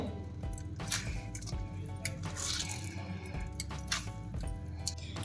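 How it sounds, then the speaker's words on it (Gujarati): Water is pressed out of grated bottle gourd by hand, giving close, irregular dripping and trickling into a vessel with soft squishing, quiet and with no talk. "જો આ છીણમાંથી મેં આટલું પાણી દબાવીને કાઢી લીધું છે"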